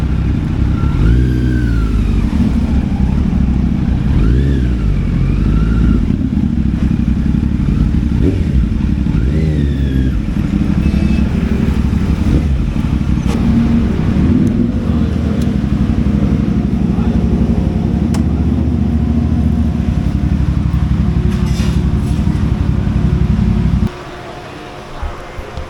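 An inline-four Kawasaki Z900 motorcycle fitted with an Akrapovič exhaust rumbles loud and close, its engine note rising and falling through several revs before cutting off near the end.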